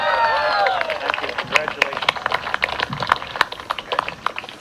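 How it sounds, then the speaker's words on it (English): Audience applause at a live investor watch event for Richard Branson's spaceflight, rapid crisp hand claps building into a steady patter, with cheering voices and crowd chatter mixed in at the start. "Give him a round of applause."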